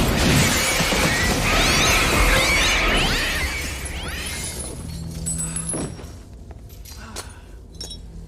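Glass shatters loudly and close, a dense burst of breaking and crashing for about three seconds, followed by scattered tinkling fragments and settling debris that fade out.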